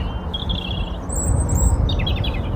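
Birds chirping on an embankment by the pool at Himley, a few thin high tweets and trills over a steady low rumble of wind or distant traffic.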